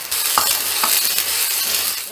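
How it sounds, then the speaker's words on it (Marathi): Curd mixture for Maharashtrian kadhi is poured into boiling water in a pot and stirred, giving a continuous bubbling sizzle with a couple of brief scraping clinks of the spoon. "आपल्या पाण्याला उकळी आली त्याच्यामध्ये हे आपलं दह्याचं मिश्रण आहे, हे आपण घालूयात."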